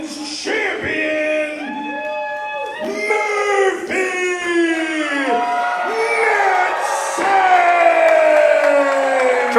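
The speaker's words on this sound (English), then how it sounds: "Tremendous ovation for Murphy Madsen." A capacity crowd at an All Star Wrestling show gives a loud ovation for the women's champion Murphy Madsen, with sustained cheering, whoops and yells that rise and swell close up.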